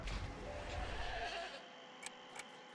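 Goat bleating in the video game Plants vs Zombies Garden Warfare 2, a short burst of bleats over game noise, followed by a quieter stretch with a couple of faint ticks.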